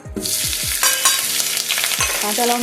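Green chilies fry in hot oil with curry leaves and cardamom, a loud continuous sizzle broken by a few metallic scrapes and knocks of a spatula against the pan, with no talking.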